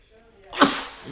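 A single sharp, loud sneeze right up close during a baseball game, followed by the start of a second burst.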